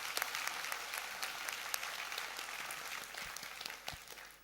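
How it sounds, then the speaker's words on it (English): Audience of staff at a Nutrition Plus gathering clapping, a faint, continuous patter of applause with scattered sharper claps, heard from a distance throughout. "So give yourselves a big clap,"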